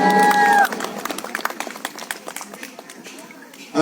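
An audience claps in a burst of applause that starts just after a short stretch of music and voices, then thins into scattered, uneven claps that fade before the sound swells again at the end.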